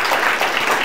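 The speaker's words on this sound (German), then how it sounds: "Das ist ein Applaus wert." Brief burst of audience applause at a talk honoring a 30 Under 30 winner, many hands clapping together in a steady, close wash.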